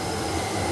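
An E5 Hayabusa bullet train pulling away at a Tokyo trackside spot, a steady close rumble of wheels and rail noise filling the short stretch without pause.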